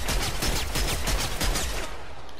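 Rapid gunfire in a video game, a quick loud burst of repeated shots that trails off over about two seconds.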